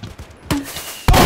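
A cannon fires in Minecraft TeamFortress: two sharp, loud blasts about half a second apart, the second louder and sustained, heard over a quiet game background.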